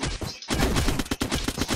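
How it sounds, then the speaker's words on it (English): Rapid machine gun fire in the video game Block Pixel Gun Apocalypse 3 rattles in a dense, continuous burst of loud shots after a brief gap. "Oh, there's machine gun fire."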